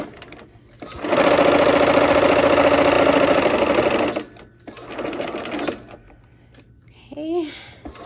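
A sewing machine stitches steadily for about three seconds, then runs again in a shorter, quieter burst, close and loud, while a person pieces fabric with pins; a voice speaks briefly near the end.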